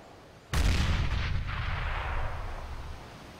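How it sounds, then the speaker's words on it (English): A grenade in the video game Counter-Strike: Global Offensive detonates as a single sudden, loud, close blast, followed by a long rumbling decay that fades over several seconds, with no talking. "Grenade out."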